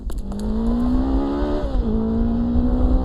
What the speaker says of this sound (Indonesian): Tiba-tiba terdengar suara motor yang dikendarai oleh kelompok Equalis.